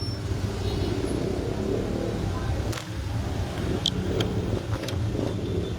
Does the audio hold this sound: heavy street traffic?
yes